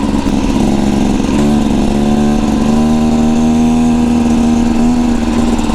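A 2024 Beta Xtrainer dirt bike engine drones loud and steady up close, with a shift in pitch partway through as it revs and settles, on an adventure ride climbing a mountain pass.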